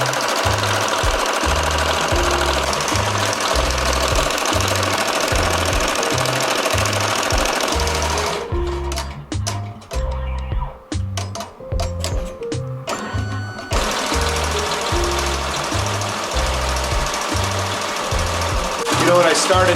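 An EMT16X embroidery machine stitches the back of a hat, a loud, fast, steady mechanical chatter with a pounding rhythmic pulse, briefly breaking into sparser clicks and thumps midway before resuming its continuous run.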